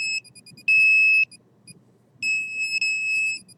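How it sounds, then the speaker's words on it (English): An electrical field detector's alarm sounds in high-pitched electronic beeps, switching between short chirps and sustained tones of about half a second to over a second, loud and close over a faint low rumble. "this is my other detector going off next to me."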